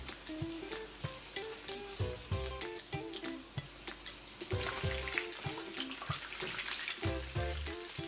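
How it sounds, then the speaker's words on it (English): Chicken pieces frying in hot oil for sweet and sour chicken crackle and sizzle steadily, with occasional stirring clatter and background music running underneath. "I'm going to allow these to fry until they're nice and golden brown."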